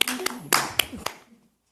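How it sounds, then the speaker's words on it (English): A few scattered hand claps at a budget and fiscal advisory committee meeting, brief and close, fading out after about a second and a half. "That deserves a big round of applause."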